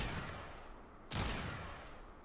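Kuva Kraken gunfire in Warframe, landing headshots as a faint, steady burst of rapid shots with one sharper, louder burst midway.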